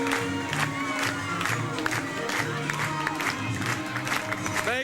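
Supporters at a Los Angeles campaign headquarters on election night cheer, whoop and clap, a loud, busy crowd roar with shouted voices rising and falling throughout.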